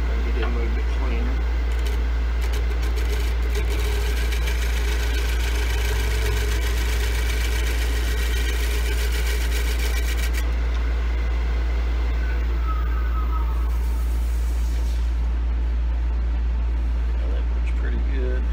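A lathe gouge making a shear cut across a large wooden bowl, a steady whirring scrape over a constant low motor hum, with a voice speaking over it partway through.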